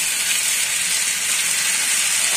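Two onions and two tomatoes fry in a pan, giving a steady, close, dense sizzling hiss with no pauses and no voices.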